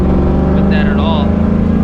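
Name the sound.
New Edge Mustang GT with 4.10 gears accelerating at 25% throttle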